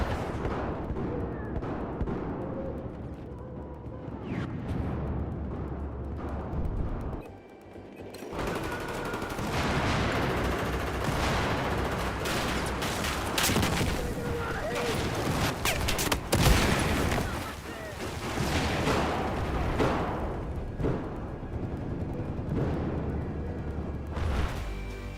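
Battlefield 4 frag grenade blasts amid a dense stretch of in-game gunfire, with repeated booms and sustained rattling shots layered loudly throughout, briefly dipping near the start before resuming.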